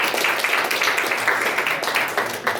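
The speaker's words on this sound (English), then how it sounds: "So give her a round of applause." An audience claps steadily in a hall during a talk, a dense continuous round of applause with no voice over it.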